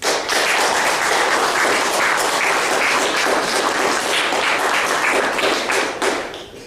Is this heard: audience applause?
yes